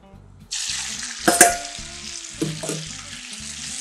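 Red pepper flakes and garlic frying in hot oil in a pan: a sizzle bursts in suddenly and then hisses steadily, with a couple of louder spatters and low rhythmic tones underneath.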